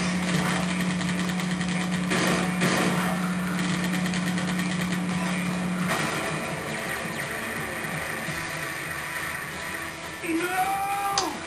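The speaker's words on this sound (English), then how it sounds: "I'm getting in the other motorcycle!" A motorcycle engine in the Sonic Nextgen game holds a steady, high, buzzing hum that shifts and fades partway through, with speech faintly in the mix and a few sharp game effects near the end.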